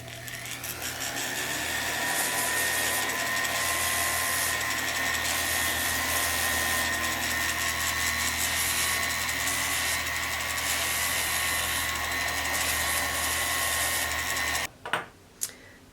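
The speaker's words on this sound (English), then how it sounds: "I often like to use a rotary tool, a sanding barrel with my flex shaft, and just kind of grind that even." A rotary tool on a flex shaft spins a sanding barrel to grind the inside of a ring bezel, a steady high whine held for about fifteen seconds, then it stops and a few brief knocks follow.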